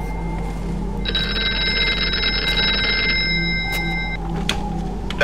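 A telephone in a phone booth rings in the Here They Lie VR game, a loud electronic ring lasting about three seconds over a steady low ambient hum.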